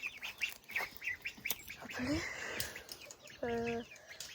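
Birds call around a farmyard while someone talks nearby; a short, nasal quack from Rouen or Muscovy ducks stands out near the end.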